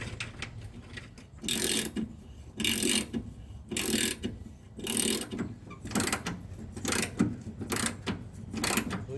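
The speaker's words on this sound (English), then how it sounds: "Let's put our nuts back on." On a Nissan Hardbody D21 pickup, a ratchet tightens nuts on the shock mounts in repeated rhythmic bursts of clicking, about eight strokes with short pauses between, close and clear.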